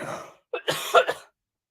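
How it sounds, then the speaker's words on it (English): A few rough coughs and throat-clearing sounds very close to the microphone, a brief one first and then a cluster, followed by silence. "Sorry to cough into the mic."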